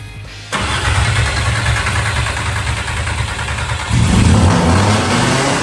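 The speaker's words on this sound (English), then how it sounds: "we shot straight ether in there, so it just revs it up all the way" An engine cranks and catches, then roars at high revs continuously, rising in pitch and loudness toward the end; loud and close. A 2.5-litre five-cylinder engine swapped into an MK1 VW Rabbit, fed straight ether.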